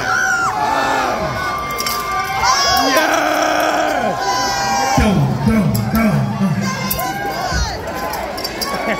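A party crowd cheers and shouts loudly and continuously, with excited whoops and yells packed close together, while voices call out over the din.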